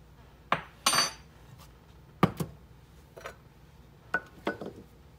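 Powdered milk spooned into a glass jar for a homemade hot cocoa mix, giving several sharp clinks and scrapes of a spoon against glass, spaced irregularly and close by with no talking.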